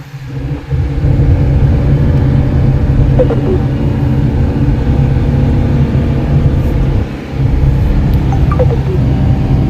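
A car engine hums steadily while driving, a loud, continuous low rumble heard up close inside the cabin with no voices over it.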